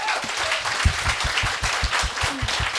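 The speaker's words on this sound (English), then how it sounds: "I think we can all give him another round of applause." Audience applause at a climate summit conference, a close, lively burst of clapping with distinct nearby hand claps standing out over the steady crowd wash, running throughout.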